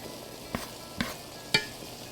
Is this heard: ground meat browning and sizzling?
yes